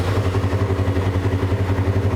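Engine of a wrecked 2021 Polaris RZR 1000 side-by-side turning over, a close, steady low pulsing chug with a regular rhythm throughout the short stretch, no talk over it.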